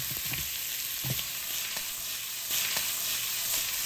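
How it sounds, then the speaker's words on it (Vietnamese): Steady loud sizzling of white onion and pork kidney being stir-fried in a hot pan, with occasional scraping stirs and no talking. "Và bây giờ thì mình cho cái củ hành trắng vào. Rồi xào đều lên"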